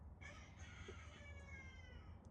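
A rooster crows once, a faint, drawn-out call over a low steady background rumble, during light bar installation on a 2023 Kawasaki Teryx4.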